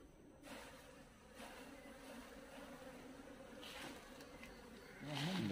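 Honey bees hum at an open beehive with super frames, a soft, steady close buzz that swells slightly toward the end.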